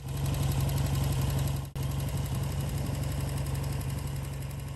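A 1950s Ariel Cyclone British motorcycle engine runs steadily at a low, even idle, near and loud, broken by one brief dip before it carries on.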